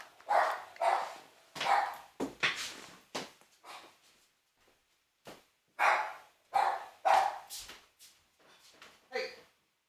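A pet dog barks indoors near a home computer setup, repeated loud close barks in uneven bursts with short pauses, mixed with a voice speaking.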